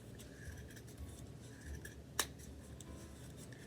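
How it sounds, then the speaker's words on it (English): Scissors snip through yarn during a take-and-make bunny craft, giving a quiet series of small cuts with one sharper snip partway through, faint against a low background. "So I'm just going to start cutting."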